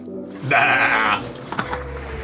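Aboard a sailboat, a man imitates a goat over the radio with a wavering nasal bleat lasting under a second, followed by a few faint knocks over steady low background rumble.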